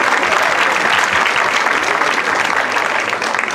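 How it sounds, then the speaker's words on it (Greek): An audience at a traditional music event on Kythnos applauds a child, a full, continuous wash of clapping from many hands that stays loud throughout with little variation. "Χειροκροτήστε το, όπως και όλα τα παιδιά."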